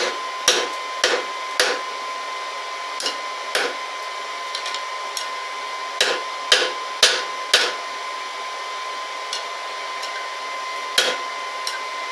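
A hammer forges rebar tongs on an anvil, giving sharp, ringing strikes at irregular intervals over a steady background hum, with no talking.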